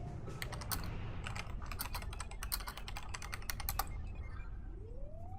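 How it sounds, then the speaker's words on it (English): Rapid clacking keystrokes on a computer keyboard, close and steady for several seconds in bursts, then tapering off, with a quiet hum in the background. "Hold on, I'm typing."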